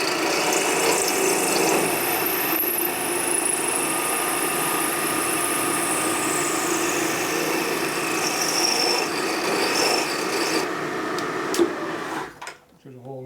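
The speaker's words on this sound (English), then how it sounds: "So it's a solid carbide. It's not a very good cutting tool, but it burns through" A solid carbide bit grinds and burns through metal on a 1952 Harley panhead 4-speed transmission, a sustained harsh rasping whine that holds for most of the stretch before cutting off near the end.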